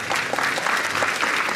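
A short burst of steady, dense audience applause for performers, mid-level and continuous with no voices over it.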